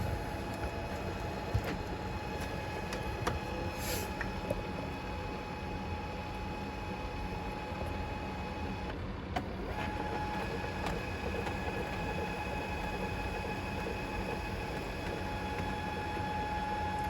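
An HP CP3525 color laser printer running continuously with a steady mechanical whir and hum, broken by occasional faint clicks and a brief shift in tone partway through.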